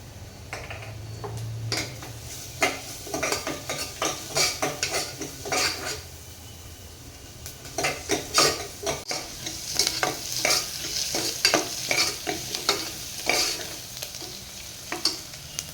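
Onion and ground masala paste stir-fried in a pan for Vanjari-style prawn rice, with a soft sizzle under repeated clinks and scrapes of a metal spoon against the pan, irregular and close, louder in the second half.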